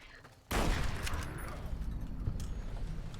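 Rifle gunfire in the video game Fallout New Vegas, a sudden loud burst of shots after a quiet moment, then sustained rattling gunfire and impacts, close and dense.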